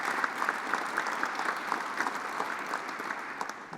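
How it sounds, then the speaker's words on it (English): Audience applause at a political event about building a strong Ontario, with steady sustained clapping from a crowd filling the whole moment at an even level, no one speaking over it. "let's give that a round of applause."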